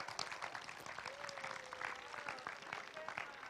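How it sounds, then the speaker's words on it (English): Audience applause at a yoga day gathering in Vancouver, steady dense clapping throughout with a faint tonal whistle or voice briefly over it. "Good hand of applause."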